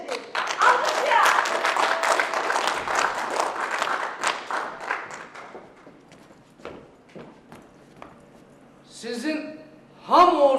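An audience bursts into applause for a comedian from Shaki at a jubilee evening, dense clapping loud at first and thinning out over several seconds before speech and scattered sounds follow.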